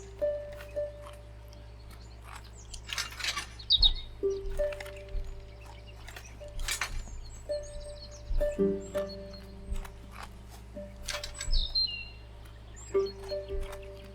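Short robin chirps and tweets from the Botany Manor garden puzzle game come in scattered bursts over a steady low hum, with soft clip-clop-like taps and game tones between calls.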